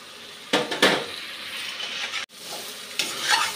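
Mixed spice masala fries and sizzles in a pan for egg kosha, with several scraping strokes of a spoon against the pan, a short break, then more stirring and sizzling up close.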